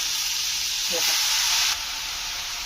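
Ridge gourd pieces and soaked chana dal sauté in a hot pan, giving a steady bright sizzle and hiss with a brief stir, and the hiss drops a little near the end.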